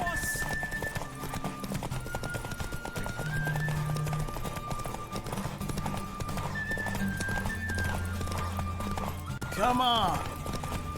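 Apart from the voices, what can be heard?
galloping horse in video game The Witcher 3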